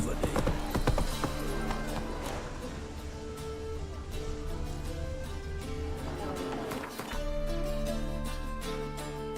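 Roach the horse trotting in The Witcher 3, rhythmic hoof clip-clops under game music and ambience.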